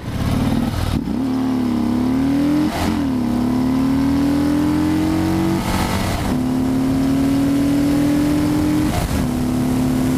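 Harley-Davidson Sport Glide V-twin, roughly 90 hp, accelerating through several gears: a loud, close engine drone climbs steadily in pitch, broken by short dips at each of three shifts, with no talking over it.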